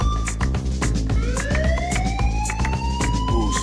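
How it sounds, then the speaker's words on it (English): A loud wailing siren sound effect rises in pitch, layered over a heavy pounding rhythmic beat in a short, dense burst. "Now give me a siren."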